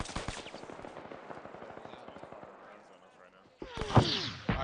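Incoming gunfire in the Arma 3 video game, rapid bursts of automatic fire fading over a few seconds, then a louder sharp burst near the end.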